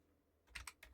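Several quick keystrokes tap on a computer keyboard as a terminal command is typed, a short faint cluster of clicks after a brief quiet pause.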